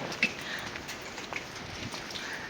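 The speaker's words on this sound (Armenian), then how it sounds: "անձրև է գալիս, շաղ է գալիս" Light rain patters softly and steadily, with a few sharper drops landing close by.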